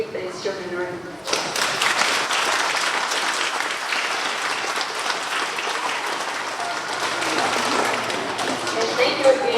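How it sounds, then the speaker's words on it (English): Brief talk, then a crowd breaks into loud, sustained applause that continues steadily for several seconds. "We'll give these children a round of applause"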